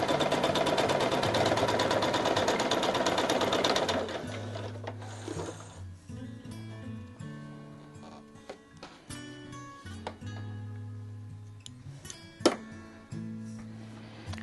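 Sewing machine stitching a seam on a scrappy bow tie quilt block, a steady dense whirring run for about four seconds, followed by quieter stop-start mechanical clicks and hums.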